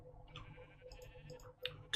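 Sheep bleat in the video game Minecraft, with faint, short wavering calls over low background sound and a couple of louder clicks near the end.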